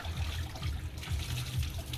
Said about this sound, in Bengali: পেটে জল দেবে ভালো করে।